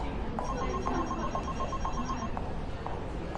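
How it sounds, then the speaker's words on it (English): A telephone rings repeatedly at a busy office reception desk, its bell-like tones steady and moderately loud over a dense murmur of background chatter and movement. "The receptionist's phone rings constantly."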